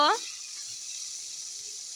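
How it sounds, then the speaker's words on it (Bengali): Pabda fish frying in oil in a home kitchen gives a steady, soft sizzle throughout, with a brief voice at the very start. "আমি লাল লাল করে একবার মাছ ভেজে নিব"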